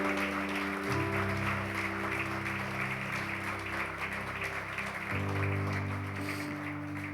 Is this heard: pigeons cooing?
no